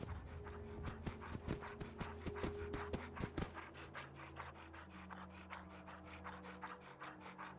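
A wounded dog pants in Fallout 4, a quick, rhythmic run of close breaths, loud and regular at first, then softening into quieter, looser breathing.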